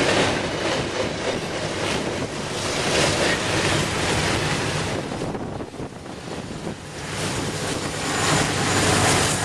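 Strong wind on a hillside at Curtis Hill roars and buffets the microphone continuously, surging and easing in loud gusts with no talking.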